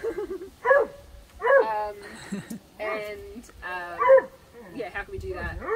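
Dogs barking and whimpering in short yipping bursts, several separate calls spread over a few seconds, fairly close, with people talking intermittently around them.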